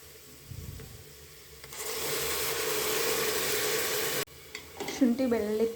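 Ginger garlic paste frying with onions in a pan for ghee rice, a loud steady sizzle surging up in the middle after quieter stirring scrapes, then short clatter as a voice begins.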